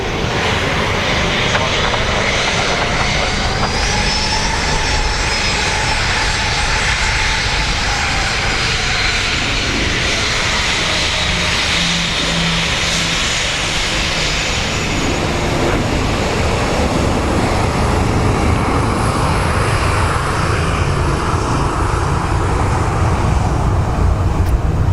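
An Aer Lingus airliner roars at Dublin Airport, its jet engines a loud, sustained whine and rumble that hold steady for the whole stretch, with faint voices underneath.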